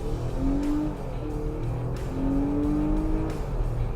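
A 2023 Nissan Pathfinder Rock Creek Edition accelerates from inside the cabin, its engine droning up in pitch through several rising sweeps, with clear drops between them as the gears shift, steady and moderately loud.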